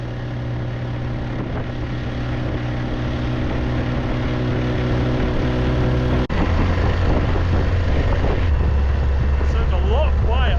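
A boat engine on the Isle of Skye runs steadily at changing speeds, a loud continuous drone that shifts pitch partway through, with wind and water noise around it.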